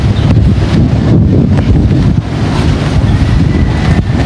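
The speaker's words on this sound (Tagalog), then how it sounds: "Masyado na pong malakas ang hangin." Strong, steady wind roars and buffets the microphone ahead of Typhoon Pipito at a big farm in the Philippines, a dense continuous rush with gusting swells and no voices.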